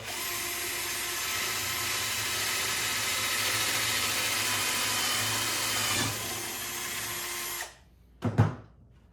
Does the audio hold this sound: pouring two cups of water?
no